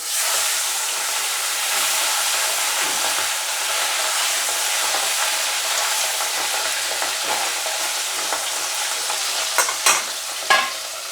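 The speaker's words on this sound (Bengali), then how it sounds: "মাছ ভাজার জন্যে লাগবে, সেই কারণে একটু তেলটা বেশি দিয়েছি" Fish pieces frying in generous oil in a pan, a dense continuous hiss of sizzling, loud and close, with a few sharper spits and pops near the end, no voices.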